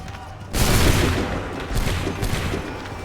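Musket volley gunfire in Assassin's Creed 3, a loud broadband blast of many shots fired together after a quieter lead-in, followed by a sustained rumbling, crackling tail of scattered shots and echoes.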